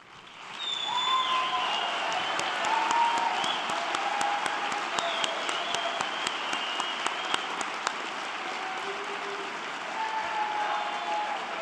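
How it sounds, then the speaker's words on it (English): A graduation audience gives sustained applause for standing Northwest Lineman College instructors, a broad steady roar of clapping with scattered sharp individual claps, plus faint tonal whistles or calls over it. "Gentlemen, please stand for a round of applause"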